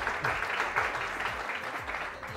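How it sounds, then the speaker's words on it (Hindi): Studio audience on a TV morning show claps steadily through the whole stretch, a dense, moderately loud patter with a voice faintly audible underneath. "सबसे पहले तो हदील के लिए बहुत सारी तालियां"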